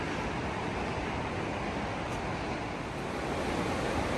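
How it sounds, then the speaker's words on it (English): A fairly strong river in Gorges State Park, North Carolina, flowing steadily: a continuous, even broadband rush of water without pauses, close and moderately loud. "The river's flowing pretty good right here."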